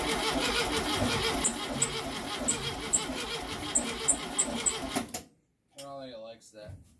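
A Baja Bug engine cranks without catching: a fast, even, rattling churn of the starter for several seconds that stops abruptly, followed by a voice speaking briefly.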